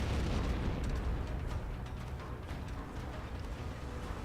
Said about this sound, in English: And kaboom.